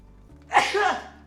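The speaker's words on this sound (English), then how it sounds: "I gotta sneeze." A single sharp sneeze bursts out close to the mic, preceded by a brief quiet intake of breath.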